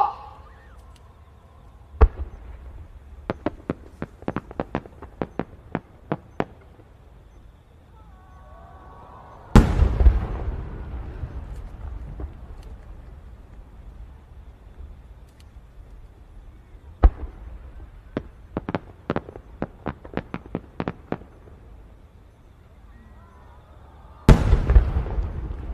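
A No. 10 shell from Fukuyama Fireworks Factory bursts at the Sanriku fireworks competition, with a few deep booms and loud cracks among rapid strings of sharp pops and crackles. The display echoes in open air.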